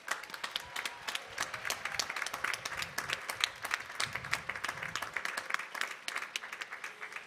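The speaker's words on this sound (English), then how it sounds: "well-deserved round of applause" Sustained audience applause fills an Endicott College commencement ceremony in May 2021, a steady wash of many hands clapping at moderate volume for the whole stretch with no one speaking over it.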